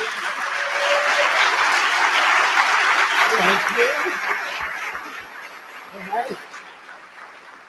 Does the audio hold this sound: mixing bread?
no